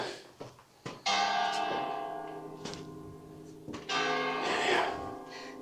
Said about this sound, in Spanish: Como de costumbre en los pueblos y municipios, nos esperan con las campanas.